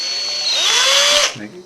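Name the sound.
drilling out a small hole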